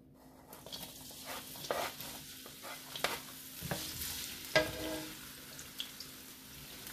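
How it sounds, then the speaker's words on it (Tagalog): Onion, ginger and a little tomato sauté in a hot pan, giving a quiet, continuous sizzle broken by scattered clinks and scrapes of a stirring utensil. "Gisa-gisa lang tayo ng sibuyas, luya, tsaka kaunting kamatis."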